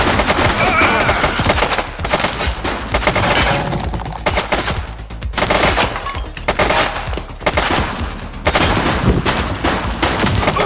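A suspect's sustained gunfire in a GTA police game, with dense rapid bursts of shots layered with echoing cracks, loud and continuous through the whole stretch and broken only by short pauses.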